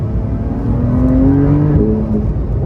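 A Porsche 911 engine revs while driving, a loud close rising drone that climbs in pitch through the middle and then eases back, heard from inside the car with no talking.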